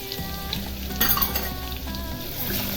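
Ginger garlic paste hits hot oil with cumin, giving a steady close sizzle and frying hiss, with a sharp spoon-against-pan clatter about midway.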